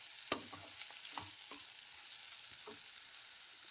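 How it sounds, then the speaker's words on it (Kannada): Tomatoes cooking in a pan, a soft continuous sizzle with a few light stirring scrapes and taps, fairly quiet, no talk. "ಟೊಮೊಟೊ ಸಾಫ್ಟ್ ಆಗೋ ತನಕ ಇದನ್ನು ಬೇಯಿಸ್ಕೋಬೇಕು"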